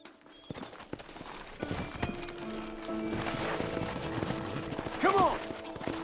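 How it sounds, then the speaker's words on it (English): Hooves clip-clop at a steady trot amid a busy Red Dead Redemption soundscape, and near the end a horse neighs briefly over the clatter. "Horses are over here!"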